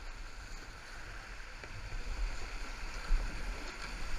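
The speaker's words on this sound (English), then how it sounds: "Keep paddling." Paddles stroke through river water during a canoe race, a soft continuous splash and wash with faint rhythmic pulls, fairly quiet and without talk.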